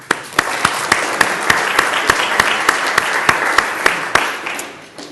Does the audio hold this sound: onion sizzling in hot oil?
no